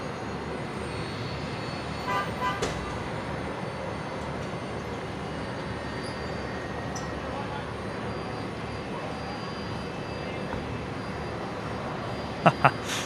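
A Fokker 70 airliner arriving on runway 01 left at Brisbane airport, heard as a steady, broad engine roar that holds throughout, with a few brief knocks near the end.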